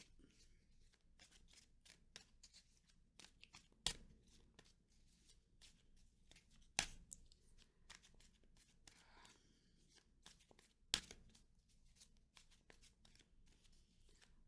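Soft, repeated riffling and flicking of tarot cards being shuffled, with occasional sharper snaps, quiet and close with no talking.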